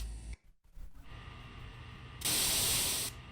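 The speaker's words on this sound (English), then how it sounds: "Radio noise. I hear something that sounds familiar to when tapes are played back." Radio noise comes through a telephone handset in the video game Spirit Hunter: NG. A low crackling hiss continues throughout and swells into a loud burst of static near the end, with no talking.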